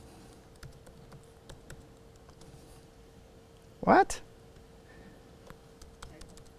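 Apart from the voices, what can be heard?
pressing the enter key on a computer keyboard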